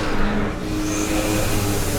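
A Sembodo bus engine roars steadily on the road toward evening, a loud, continuous low rumble with a slight rise in pitch as it pulls along.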